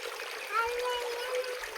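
Spring water trickling out of a cave, a soft, close, continuous burble and splash heard briefly under a person talking.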